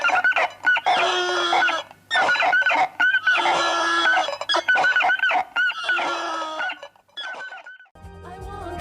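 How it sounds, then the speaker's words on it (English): A clucking hen noisemaker played with wet fingers on plastic gives loud, tinny, squawking clucks in rapid bursts with brief gaps between them, ending in a short trailing squeak. "wet fingers on plastic will also make a clucking hen sound. Rather tinny one, but quite loud."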